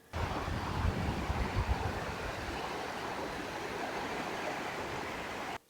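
A river runs through a vast wilderness, its water polluted by runoff; steady, close rushing flow holds at an even level throughout with no voices.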